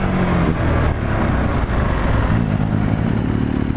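An EBR 1190RX sport motorcycle engine revs loud and close, a dense, continuous roar that rises and dips slightly throughout a few seconds with no talking over it.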